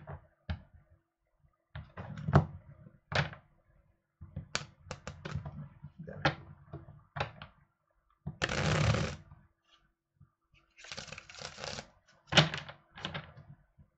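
A deck of tarot cards being handled and shuffled in separate crisp bursts of snapping and riffling, with short pauses between them, close and fairly loud, no voices over it.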